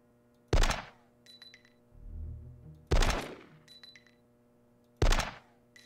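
Three sharp, loud gunshots spaced about two seconds apart, fired at Hans Gruber in the Die Hard: Nakatomi Plaza video game, each a hard crack with a short decay, no talk.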